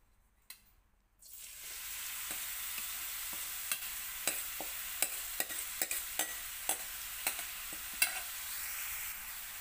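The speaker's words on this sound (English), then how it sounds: "And now our pure ghee is melted. Now we have to add our carrots." Carrots frying in melted pure ghee for gajar ka halwa, a steady sizzle beginning after a brief quiet start, with a regular series of sharp scraping stirs punctuating the hiss, close and alone without talk.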